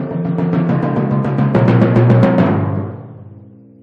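Timpani rolled and struck with left-hand-lead sticking, a smooth, even stream of resonant drum strokes moving between pitches, swelling then ringing out and decaying, with no talking.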